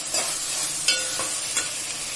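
Tomatoes fry in a pan with onions, a continuous soft sizzle under a few scraping stirs of a spoon against the pan.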